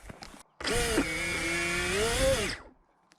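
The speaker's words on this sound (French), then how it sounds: "J'ai un moteur qui est défaillant," A faulty electric motor on an AtomRC Penguin RC plane spins up to a high, whining buzz for about two seconds, wavering in pitch, then cuts off abruptly.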